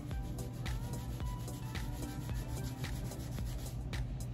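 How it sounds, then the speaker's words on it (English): Close, soft scrubbing of a makeup wipe rubbed back and forth over eyeliner on skin, faint and continuous with a rough repeating rhythm and no speech. "I got one of my makeup wipes."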